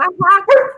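A dog gives a couple of quick, close barks with a slight whiny, yelping edge, loud and alone with no talking over it.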